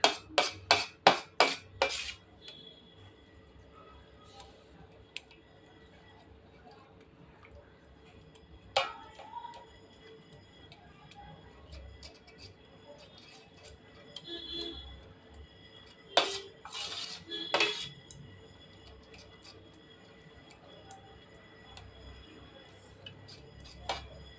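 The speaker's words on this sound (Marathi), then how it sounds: "वेलचीची पूड केलेली आहे ती घालूया त्यामध्ये. छान मिक्स करून घेऊया." A spoon stirring cardamom powder into a pumpkin mixture in a pot: a fast run of sharp metallic clinks at the start, then scattered scraping taps and rubbing over a low steady background hum.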